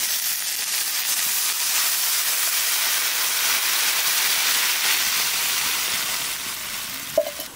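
Water boils hard in a cooking pot while greens cook, a loud, steady bubbling hiss with a short clink near the end and no voices.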